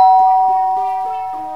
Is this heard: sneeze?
no